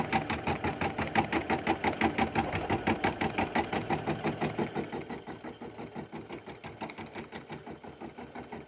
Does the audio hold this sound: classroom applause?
no